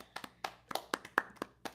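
About a dozen hand claps, spaced unevenly and fairly faint, each a sharp crisp burst standing alone against quiet room tone.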